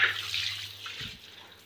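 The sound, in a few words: bathtub filling with clean water from the tap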